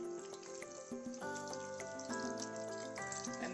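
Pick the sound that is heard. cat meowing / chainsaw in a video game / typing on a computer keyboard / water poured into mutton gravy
water poured into mutton gravy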